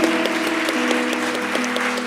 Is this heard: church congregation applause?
yes